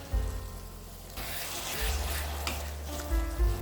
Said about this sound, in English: Fry in low heat till the raw flavor is gone.